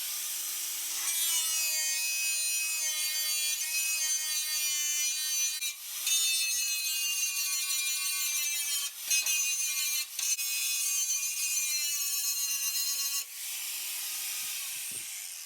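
An angle grinder works the steel guard of an XD Ford Fairmont Ghia after a hole is drilled, giving a loud, continuous high-pitched whine with a few brief dips and pauses.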